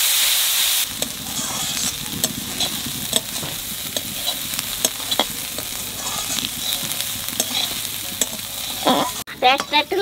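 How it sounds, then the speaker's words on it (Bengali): Onion and chili frying in white oil in a pan, with a steady close sizzle and repeated stirring clacks throughout, plus a brief louder rattle near the end. "একটু পেঁয়াজ লঙ্কা ভাজিয়ে নেব"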